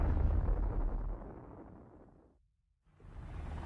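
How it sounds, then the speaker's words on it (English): A hydrogen bomb explosion with a force of 10 million tons of TNT, heard as a loud, deep, roaring rumble that fades away into near silence and then swells back up into a second rushing blast. "It explodes with a force of 10 million tons of TNT, 600 times more powerful than the bomb that destroyed Hiroshima."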